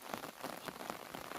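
Steady rain pattering over rice fields at harvest time, a continuous dense hiss of drops falling close by with no voices.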